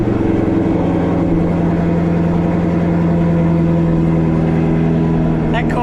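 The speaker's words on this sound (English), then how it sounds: "That cold start, she always sounds so nasty." Corvette C7 Z06 engine just after a cold start, a loud, steady, rough idle with a deep, throbbing rumble, close and continuous.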